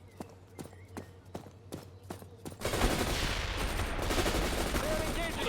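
Gunfire in World in Conflict, starting as evenly spaced single shots in a steady rhythm, then breaking into a dense, loud, continuous roar of combat noise.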